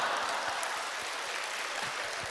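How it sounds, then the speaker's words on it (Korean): A lecture-hall audience at a special talk breaks into soft, steady applause, a continuous dense patter of many hands heard at a distance, fairly faint, with no voices on top. "이게 박수 칠 일입니까?"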